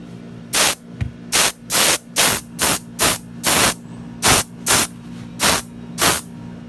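An aerosol spray can coats a Damascus knife in about eleven short, sharp hissing bursts, each roughly a third of a second long, evenly spaced and close by, with a low hum underneath.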